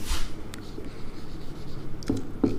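Pen writing a journal entry on paper, continuous close scratchy strokes with a few sharper taps near the end, fairly loud and without speech.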